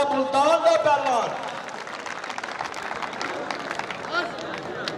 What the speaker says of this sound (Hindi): एक ताली मारो